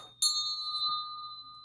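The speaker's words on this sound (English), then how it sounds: "Tibetan bell. This clears energy." A Tibetan bell is struck once, giving a bright, clear metallic attack followed by a pure, sustained ring. The tone carries steadily and fades slowly, heard alone in a quiet room.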